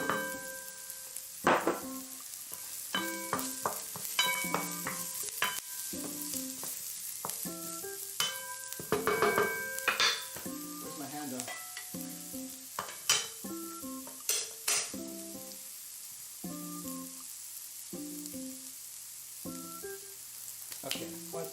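Onion is stirred in a sizzling frying pan, with a soft fry hiss beneath a busy, irregular run of spatula scrapes, taps and clatters against the metal.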